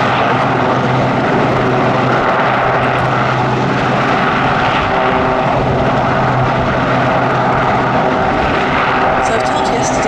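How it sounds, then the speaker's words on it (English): A Westland Sea King helicopter hovering at an air festival, its heavy rotor and turbine roar loud and continuous, with people talking over the engine noise. "the crewmen there have some control over the helicopter whilst it's hovering"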